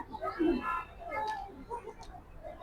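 Grizzle racer pigeons coo softly and close by, a few low throaty calls rising and falling over a light background murmur.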